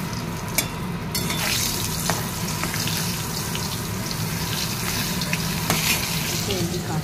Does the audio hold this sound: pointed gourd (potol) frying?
yes